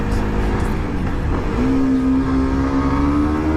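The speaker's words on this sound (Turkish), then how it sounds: "Şurada bir egzoz dinleteyim sizlere." Kawasaki Z250SL motorcycle exhaust revving up loudly and close, the engine note climbing and then holding at a steady high drone, with no talking.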